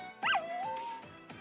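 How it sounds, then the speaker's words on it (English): Koromaru the dog from the video game Persona Q2 lets out a short, high whimpering yip that bends up and down, followed by softer whiny dog sounds, close and clear. "I love Koromaru's dog noises"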